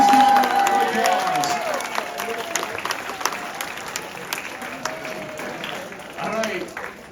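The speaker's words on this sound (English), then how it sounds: "There's Team 2. Please give them a round of applause" Audience at a summer math league tournament clapping for a team being called up, a steady wash of applause under a loud tone at first, with murmured voices and scattered cheers mixed in.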